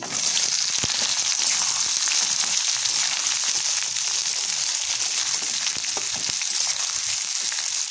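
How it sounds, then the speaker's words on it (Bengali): Coarsely chopped onions frying in a hot spice mixture for a beef liver bhuna, a loud continuous sizzle close by with occasional stirring clatter underneath. "এবার আমি মশলার মধ্যে পেঁয়াজগুলো দিয়ে দিচ্ছি।"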